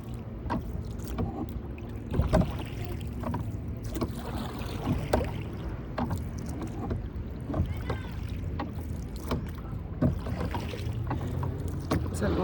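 Oars dip and pull through water in a slow, regular rhythm as a boat is rowed, with gentle splashes and light wind in the background.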